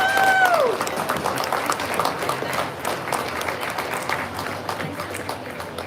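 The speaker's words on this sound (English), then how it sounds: "let's give them all one big round of applause." Crowd applause at a market hog livestock show, broad continuous clapping filling the arena after a short whistle-like tone at the start, steady and fairly loud throughout.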